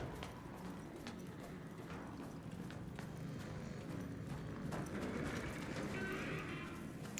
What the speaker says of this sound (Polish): No słyszę jak biegnę